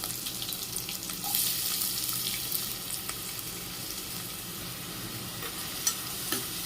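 Onions and curry leaves sauté in a pan for a Tamil kidney bean gravy, giving a steady broadband sizzle with intermittent stirring scrapes throughout.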